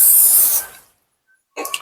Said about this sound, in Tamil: ஸ்ப்ரே பண்ணி ஸ்ப்ரெட் பண்ணி விடுவேன்.